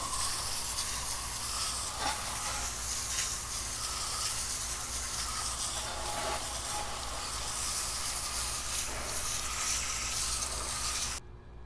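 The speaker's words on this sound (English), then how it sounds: "Now we're gonna do a quick spray." Steady, loud hiss of brake dust cleaner sprayed onto a wheel on a white car, running continuously for about eleven seconds, then cutting off abruptly.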